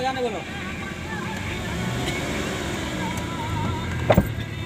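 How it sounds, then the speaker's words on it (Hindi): Inside a moving car, a steady engine and road rumble runs throughout at an even level, with a faint bump or rattle near the end. "उन्हीं के गाड़ी में अभी हम बैठे हुए हैं और वो खुद ड्राइविंग कर रही है"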